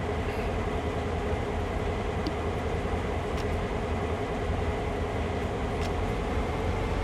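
A continuous low rumble of a moving train in Train Sim World 6, steady and loud throughout, with faint occasional clicks over the drone.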